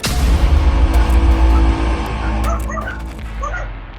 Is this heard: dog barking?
yes